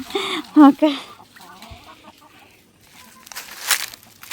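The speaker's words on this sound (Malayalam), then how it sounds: "കോഴികളൊക്കെ ഇവിടെ വന്ന്" A few chickens cluck and squawk nearby in short bursts, followed by quieter rustling and a soft burst of noise toward the end.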